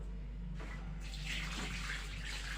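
Raw meat rinsed under a running kitchen tap, a steady close gush of water splashing with slight shifts in flow, no talking.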